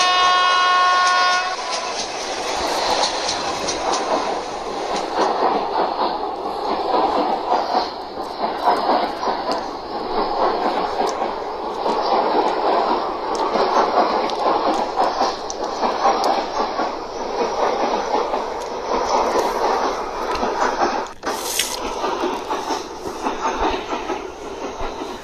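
An Indian train rolls along the rails, heard from inside an AC coach as a loud steady rumble with rhythmic clatter, a short horn tone at the start and a brief sharp bang near the end.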